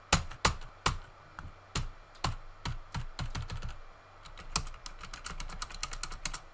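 Computer keyboard typing, not a custom build, heard alone and close: irregular clusters of crisp key clicks with short pauses and a steady burst of fast keystrokes toward the end.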